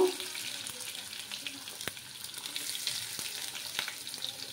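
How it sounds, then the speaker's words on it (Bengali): Curry leaves and chopped onion frying in oil tempered with mustard seeds for a coconut milk fish curry, a steady soft sizzle over low heat with scattered small crackles and pops, no voices. "তারপর দেবো কারি পাতা, দেবো পেঁয়াজ কুচিগুলো দিয়ে দেবো"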